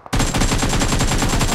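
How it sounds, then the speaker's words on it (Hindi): Rapid automatic gunfire from the mobile battle royale game BGMI (PUBG), a loud unbroken burst of tightly spaced shots running start to finish after a brief quiet lead-in. "फायर"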